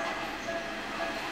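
A late-night train pulls into a Japanese station around 11 pm, a steady rumble of wheels on rails at moderate distance, faint and continuous over a brief moment.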